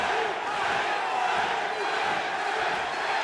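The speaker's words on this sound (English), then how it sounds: "And now the crowd begins to chant Tank." A UFC fight crowd in a 1995 arena chants in unison, a dense, steady roar of many voices that swells throughout with no single voice standing out.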